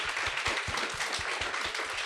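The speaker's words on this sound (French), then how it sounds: "Je vous demande de vous applaudir, allez-y." Audience at a school prize-selection event applauding steadily, a dense wash of many hands clapping with a faint rhythmic thump underneath, no talk.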